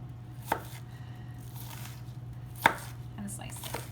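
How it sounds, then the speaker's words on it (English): A knife slices an onion thinly on a cutting board, with two distinct sharp chops separated by quiet, faint scraping in between, heard close over a steady low hum and without speech. "to mince, I'm just going to slice very thinly along the grain of the onion."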